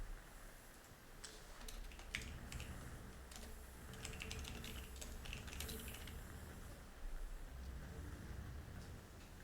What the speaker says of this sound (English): He's already typing in the Discord, it seems.